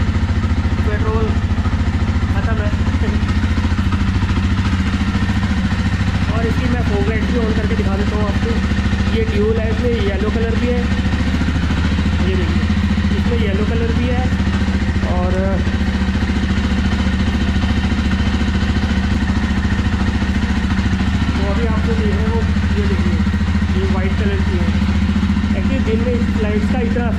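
A Jawa 42 2.1 motorcycle with about 38,000 km on it idles close by, a steady loud mid-pitched engine thrum with a slight irregular pulse, running continuously throughout.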